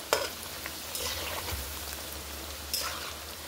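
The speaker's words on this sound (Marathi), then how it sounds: "आता आपण तळून घेऊयात" Aloo tikki patties fry in hot oil, a close bubbling sizzle with a sharp splash as a patty drops in near the start and another burst later, no talk.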